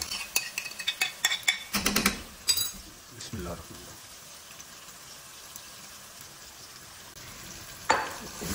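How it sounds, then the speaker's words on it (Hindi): Marinated chicken goes into hot oil with onions and tomatoes, bringing a burst of clattering utensil strikes and stirring, then a quieter steady sizzle with another scrape near the end. "अब इसमें हम जो मैरिनेट करके रखा हुआ ये हमारा जो चिकन हमने मैरिनेट करके रखा हुआ था वो हम इसमें ऐड कर देंगे"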